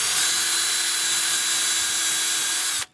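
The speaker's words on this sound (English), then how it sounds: "So just drilling through the cedar." A power drill whines steadily at high speed, boring through cedar for nearly three seconds before abruptly stopping.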